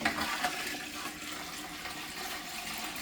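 Water rushing out of a drained water heater tank, a steady gushing splash that stays loud and continuous from start to finish, close by, with no talk.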